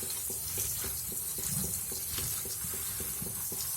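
Water runs steadily while taro leaves are rinsed by hand, with a soft, even rush and faint repeated splashes as the leaves are moved through the stream, fairly quiet and close.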